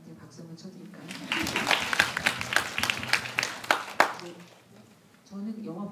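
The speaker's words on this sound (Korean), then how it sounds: "여기서 번역가님한테 박수 한번 쳐드릴까요?" A cinema audience at a film screening talk applauds for the translator, a brief swell of clapping rising after a moment and fading out within a few seconds, with voices heard before and after.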